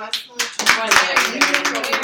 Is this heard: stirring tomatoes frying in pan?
no